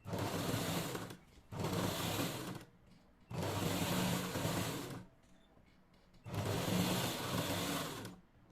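Four bursts of rapid, even mechanical stitching from a sewing machine working through lining cloth, each lasting a second or two, with brief quiet gaps between them.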